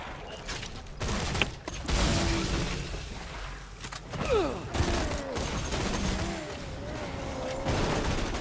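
Gunfire from a gun in the Borderlands video game, a dense, loud fusillade of rapid shots with booms and mechanical clatter, running almost continuously alongside other game effects and a rising whine.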